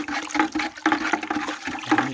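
A bamboo stick stirs a wet mixture of hearth ash in a container, making sloshing, churning water-like swishes in uneven strokes, close and moderately loud with no speech.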